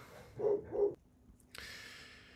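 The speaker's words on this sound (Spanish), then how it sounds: "Que los perros están ladrando, no sé qué está pasando." A pair of short dog barks sound close together indoors, followed by a faint, steady background hiss.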